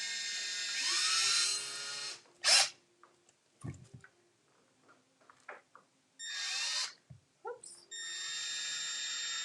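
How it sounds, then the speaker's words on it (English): Small power drill boring straight into a cork to set matchsticks, several short high whining bursts separated by pauses, close and fairly loud, with a brief spoken exclamation. "the easiest way for me to get these matchsticks in here was to use a drill"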